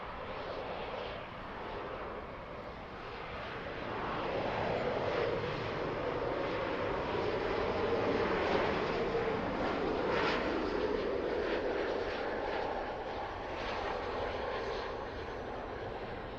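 An airliner takes off from a runway at Toronto airport, its broad engine roar swelling and holding steady at a moderate distance, loud and continuous with no talk over it.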